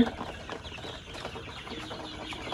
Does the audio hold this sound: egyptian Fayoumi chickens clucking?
yes